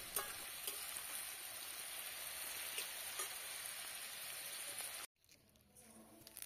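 Beans frying in oil in a pan on a rooftop cooking spot, a continuous faint crackling sizzle that cuts out abruptly near the end, with no talking.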